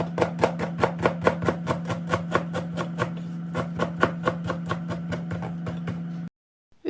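A knife chops parsley for a German potato salad in quick, evenly spaced strikes over a steady background hum, then stops abruptly near the end.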